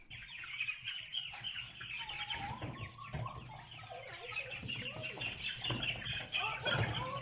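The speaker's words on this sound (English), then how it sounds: "I think they're getting kind of tired of living with these monstrous birds." Chickens cluck, squawk and flap in a crowded coop alongside larger birds, a busy run of near, overlapping calls and wingbeats with brief bursts of agitation throughout.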